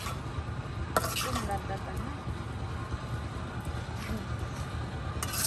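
Chopped potatoes with egg fry in a pan while being stirred, a steady sizzle under a person talking, with a few scraping and clinking utensil sounds.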